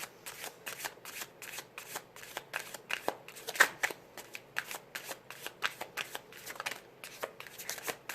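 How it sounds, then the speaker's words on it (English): Tarot deck being shuffled by hand in repeated quick riffling bursts, crisp papery flicks close to the microphone, with a brief pause near the middle. "I'm going to pull some cards from this deck"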